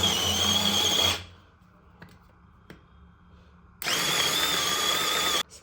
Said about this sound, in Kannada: ಸೊ ಇದನ್ನು ಚಾಪ್ಸ್ ಮಾಡ್ಕೊಳ್ಳೋಣ, ಸ್ವಲ್ಪ ಸ್ವಲ್ಪನೇ ಹಾಕ್ಕೊಳ್ಳೋಣ, ನೀಟಾಗಿ ಗ್ರೈಂಡ್ ಆಗಬೇಕಲ್ಲ